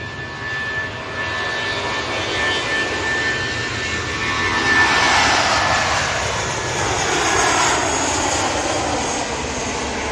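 A Corendon airliner arriving, a broad jet-engine roar that builds gently and holds steady, loud and fairly near, with a thin whine running through it.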